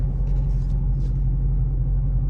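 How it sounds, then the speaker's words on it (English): A Dodge Hellcat Widebody rolls forward with a steady deep low engine rumble, close and continuous, with no voices over it. "I am driving forward"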